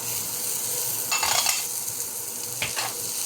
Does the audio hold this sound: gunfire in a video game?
no